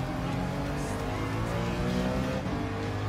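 An old BMW race car in Gran Turismo 7 revving hard at high rpm, a loud, steady engine roar held without a break, with faint tire noise underneath.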